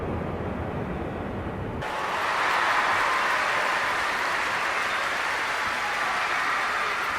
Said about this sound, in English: Well, the crowd will react to that quite rightly.